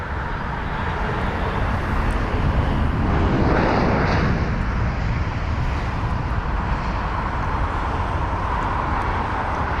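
A British Airways Boeing 787 taxiing at London Heathrow, a steady broadband engine roar that swells slightly mid-clip over constant airport ambience, with no voices.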